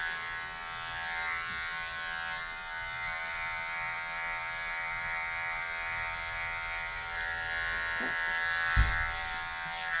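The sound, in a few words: electric clippers trimming a dog's fur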